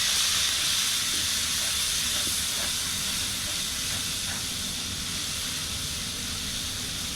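Turmeric, chili and ground coriander sautéing in a pan give off a steady, even hiss of frying that holds at a constant level throughout, with no voices.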